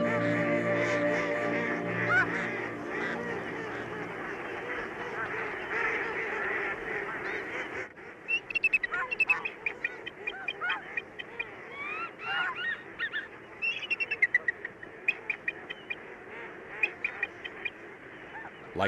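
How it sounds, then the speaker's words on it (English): Geese and ducks in flight honk in a dense overlapping chorus that thins into scattered, sharper calls. "Ducks, geese, and swans, more than 50 species in all,"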